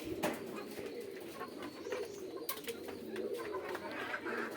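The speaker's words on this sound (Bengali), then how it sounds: "এটা আমাদের ফার্মি কবুতর" Farm pigeons cooing steadily in a loft in rural Bangladesh, several birds overlapping in soft repeated coos at close range with faint rustling throughout.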